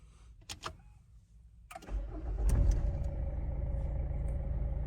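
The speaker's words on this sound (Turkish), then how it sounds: "Şimdi aracımızı bir çalıştıralım." After a few clicks and taps, a Renault Megane 2 engine cranks and catches just after a steering repair, then settles into a steady, close idle hum that continues to the end.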